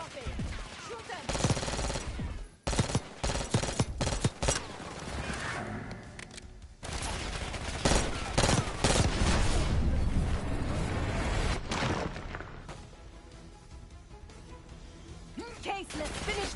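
Sustained automatic gunfire in a Black Ops 6 campaign battle, with dense, loud bursts running almost without a break and explosive crashes mixed in. Shouted voices are heard in the fight.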